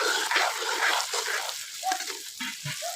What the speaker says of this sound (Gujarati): હવે બકડિયામાં કોબી, ટમેટા આ બધું તળાય છે